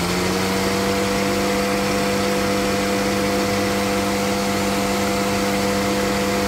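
A warmed-up Lada 4x4 engine running steadily at idle, a continuous loud hum with a droning tone and no talking.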